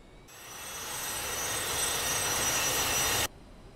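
A simulated Saab Sk 60 jet taxiing toward the runway in a flight simulator game, its engine a steady, loud broadband whine that swells slightly and then cuts off abruptly.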